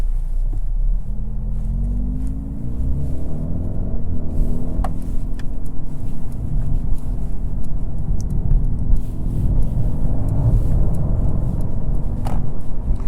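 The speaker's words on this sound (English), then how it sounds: "This is a 8-speed dual clutch transmission. And even in this automatic setting, downshifts are pretty good." A 2024 Mercedes CLA35 AMG with an 8-speed dual-clutch transmission cruises in automatic mode, its steady low engine and road rumble rising and falling through gear changes as it downshifts while driving, with no talking.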